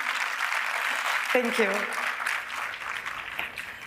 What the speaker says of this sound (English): Another clap for them, please.